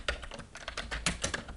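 Rapid, close clicking of keys as PHP code is typed on a computer keyboard, a quick uneven run of keystrokes with no talking.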